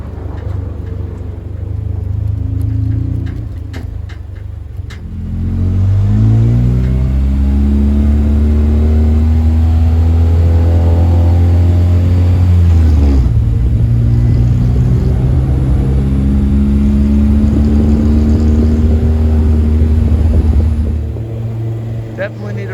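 An Acura RSX, back on the road after wreck repair, rumbles as it pulls away and revs, engine pitch climbing through gears in a loud, close, continuous drone.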